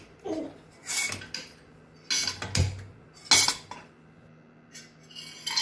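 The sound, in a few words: dry roasting cashews, almonds and pistachios in a pan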